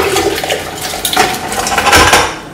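Cooking liquid and cooked vegetables for a potimarron (red kuri squash) velouté are poured into a blender, giving close, splashy watery pours with a few clinks of the container over about two and a half seconds.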